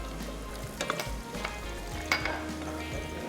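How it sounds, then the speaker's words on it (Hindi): Curry leaves and whole red chilies crackle and sizzle steadily in hot oil for a tempering. The frying hiss is constant and moderately close, with occasional sharper pops and faint clinks. "अब इसमें शामिल करेंगे ये कड़ी पत्ता। कड़कड़ाहट आएगी"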